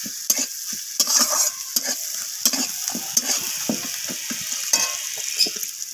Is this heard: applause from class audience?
no